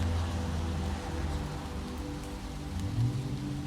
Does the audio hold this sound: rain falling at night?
yes